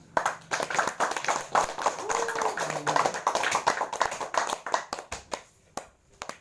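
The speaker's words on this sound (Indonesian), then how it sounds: "Tepuk tangan buat Tuhan." A church congregation claps their hands together in praise, a dense, steady patter of many hands that fades near the end, with a voice heard over it.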